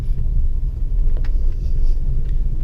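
A car rolls along slowly and gently, its low engine rumble and road noise steady and close, with a few faint clicks and no voices.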